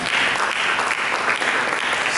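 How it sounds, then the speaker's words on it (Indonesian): A church congregation applauds during a sermon, dense and loud clapping from many hands sustained evenly throughout, close and full with no talk over it. "Berikan tepuk tangan buat dia."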